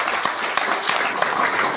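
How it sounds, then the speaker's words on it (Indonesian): A church congregation claps together in sustained, dense applause, loud and close, with individual sharp claps standing out briefly. "Sekali lagi kita beri tepuk tangan untuk Tuhan."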